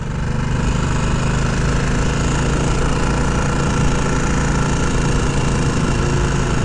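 A 2023 Harley-Davidson Nightster S with its 975cc Revolution Max engine runs steadily, a loud, continuous, close-up drone with wind rush and no break in the sound.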